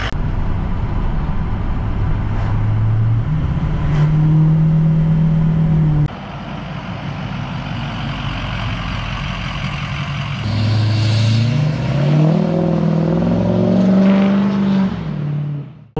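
A 2005 Ford F350 truck with a 6.0 Powerstroke diesel engine runs close by for a long stretch, its low drone steady, then briefly falling away and returning with rising and dipping pitch.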